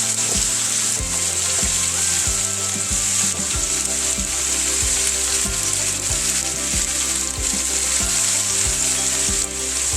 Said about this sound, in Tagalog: Lagay na halo natin yung gulay.